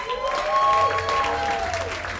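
A comedy club audience claps for a comedian taking the stage, a short burst of steady applause with a whistle-like tone riding over the clapping.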